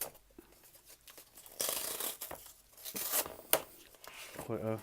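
Royal Mint coin packaging being torn open, with crisp ripping and crinkling bursts repeating close up over several seconds, louder in the middle, with occasional quiet gaps.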